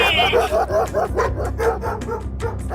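Two dogs barking and growling as a sound effect in a Filipino horror audio story, rapid overlapping barks and yips close up with a low growl underneath.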